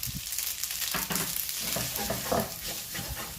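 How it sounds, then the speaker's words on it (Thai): Spaghetti with canned clams being stir-fried and tossed in a pan, a steady close sizzle with scraping, clattering stirs running throughout, no voices. "ผัดคลุกเคล้าให้เข้ากัน"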